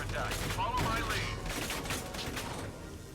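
Gunfire from units in Valkyria Chronicles 4, a dense fusillade of overlapping shots and rattling bursts filling the scene at steady loudness, with game voices mixed in.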